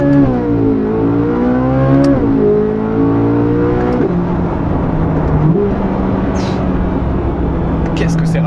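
Naturally aspirated V8 of a Chevrolet Corvette C8 Z06 revving hard, rising and falling in pitch through several pulls, loud and close, with someone talking over it throughout.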